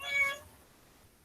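A house cat gives a single short, fairly close meow at the start, followed by near silence and the first hint of another sound at the very end.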